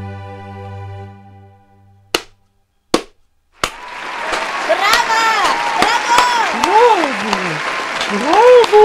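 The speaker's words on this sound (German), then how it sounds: "klatschte das Publikum vor Begeisterung" An enthusiastic audience in Venice applauds a flute performance. A held tone and a few sharp isolated claps give way to a loud, dense burst of clapping mixed with whooping, rising and falling cheers.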